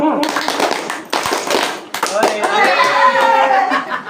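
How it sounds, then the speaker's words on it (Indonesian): A group at an Indonesian home gathering does the "tepuk gembira" clapping routine, a brisk patterned series of claps mixed with voices chanting and talking over it throughout. "Tepuk gembira"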